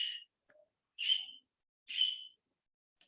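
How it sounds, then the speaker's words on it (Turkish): A bird chirps in three short, bright, whistled bursts spaced about a second apart, clear and fairly close against an otherwise quiet background. "İnanılmaz bir şekilde ötüyor."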